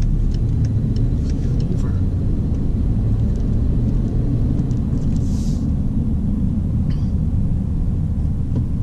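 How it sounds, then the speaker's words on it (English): Car driving through Saturday afternoon traffic jam in downtown Atlanta, with a steady loud low engine and road rumble throughout and faint higher tones of passing traffic. "Saturday afternoon, traffic jam."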